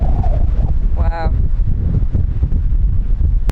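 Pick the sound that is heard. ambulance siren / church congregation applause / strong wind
strong wind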